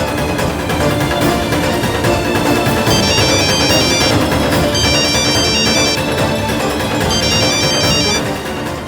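A phone rings on and on unanswered, a loud electronic ringtone pattern repeating in bursts over a busy, dense background with no speech.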